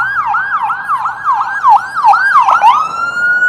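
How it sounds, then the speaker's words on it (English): An emergency vehicle siren wails close by and loud, its rising and falling tone repeating in quick cycles before settling into a steady held pitch, with no talk over it. "That siren sign?"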